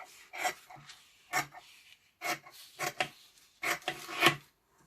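Faux leather being trimmed on Amazon packaging, a series of short rasping cutting strokes in uneven bursts with brief pauses between them, close and fairly quiet, no talking.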